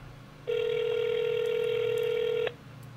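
A single steady electronic telephone tone sounds for about two seconds over a quiet hum, starting and stopping cleanly.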